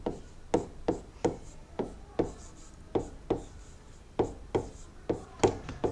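Chalk or pen strokes writing an equation during a class 6 maths lesson on one-variable equations, a steady series of short scratchy taps and rubs, about two per second, close and clear with no talking.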